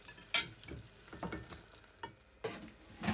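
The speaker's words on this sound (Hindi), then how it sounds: "अब इसको टमाटर के साथ मैं अच्छी तरह भूनूंगी" Potatoes and tomatoes fry in a pan for a simple aloo masala curry, a soft sizzle under repeated close scrapes and knocks of a stirring spoon, with no voices.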